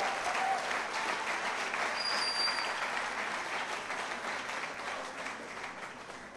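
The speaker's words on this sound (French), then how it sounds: "Je vous demande encore d'applaudir pour elle." A hall audience claps at a business event in sustained, dense applause. The clapping stays loud and even throughout and fades slightly toward the end.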